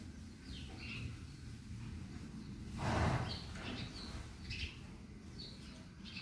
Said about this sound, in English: I'm gonna be silent now so you can hear the birds.